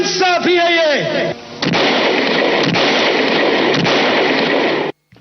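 Gunfire from a scene in the Hindi film Sholay: a brief voice at the start gives way to a loud, sustained roar of shots and booming blasts that stops abruptly near the end.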